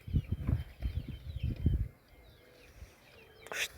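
Pigeons take off in a burst of close, rapid wing flapping that lasts about two seconds before fading, followed by quieter background and a brief sharp chirp near the end.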